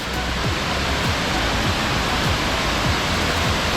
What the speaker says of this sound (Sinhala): මේක ඇල්ලක්ද බං?